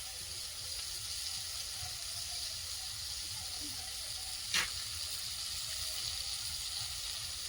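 Large prawns frying in a pan give a steady sizzle and hiss throughout, with one brief sharp crackle midway. No one speaks.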